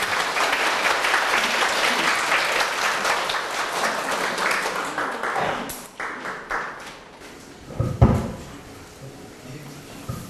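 Audience applause at a university psychology lecture, sustained and dense for about five seconds before thinning into a few scattered claps and bumps.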